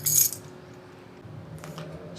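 Bunch of keys jingles and clinks briefly at the start while a door of a newly bought house is being unlocked, followed by faint rattling and quiet handling noise.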